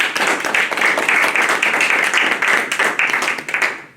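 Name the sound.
quick round of applause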